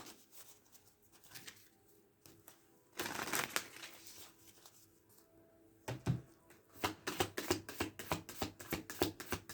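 Tarot cards being shuffled by hand, with a quiet rustle early on, a louder burst of riffling in the middle, then a quick run of crisp, rhythmic card snaps near the end, with no one talking.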